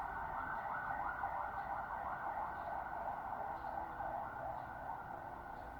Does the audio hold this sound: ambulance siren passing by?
yes